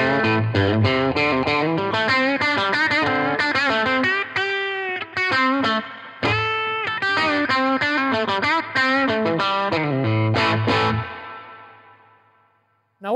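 An electric guitar played through a Fat Jimmy Fat Jac 15 tube amp gives a fat, midrange-heavy, honky British tone. Chords and single-note lines ring out with short pauses, ending in a long decaying sustain.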